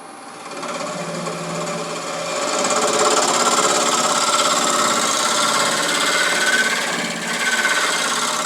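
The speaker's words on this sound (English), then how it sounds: "I'm not embarrassed to use a sharp negative rake scraper to get a smoother curve" Wood lathe spinning a rare cherry burl bowl during rough turning while a sharp negative rake scraper shapes the curve; a continuous motor hum sits under a bright, hissing scrape that swells and holds steady.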